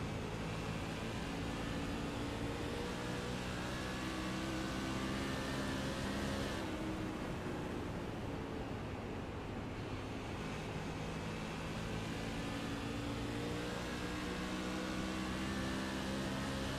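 iRacing Silver Crown race car engine heard on board under light throttle, a steady, droning roar with dense harmonics that dips briefly and then picks back up, running on with no talk.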